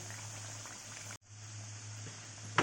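Kachoris with a pea filling deep-frying in hot oil make a continuous soft bubbling hiss, briefly dropping out for a moment, with a small clink near the end.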